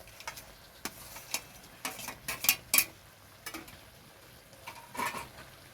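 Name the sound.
chicken being poured into the pan for chili chicken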